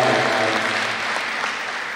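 A school audience on decision day gives a round of applause: dense, steady clapping fills the room throughout, with no voices over it.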